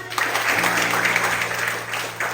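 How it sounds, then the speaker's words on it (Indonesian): A high-school class in Indonesia claps together during a lesson, a brief, even burst of applause heard close with a steady low hum beneath it. "Tepuk tangan"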